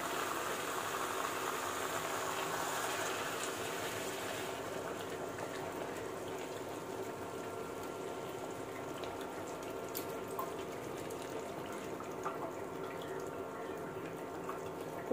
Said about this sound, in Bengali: গরম জলটা আমরা দিয়ে দেব,